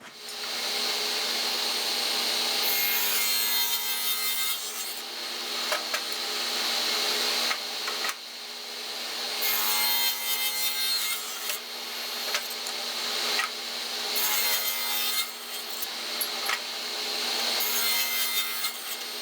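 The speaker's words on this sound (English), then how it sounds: "we'll take this piece and cut the corners off of it" Steady, continuous hand sawing through wood stock, cutting the corners off a block for a wooden mallet head, rasping and loud, with brief shifts in rhythm as the cut progresses; no talking.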